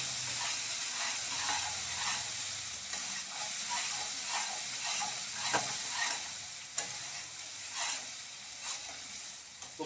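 Spice masala frying in a pan for a spicy quail egg curry, a continuous soft sizzle under repeated rhythmic scrapes of a spatula, fairly quiet and close.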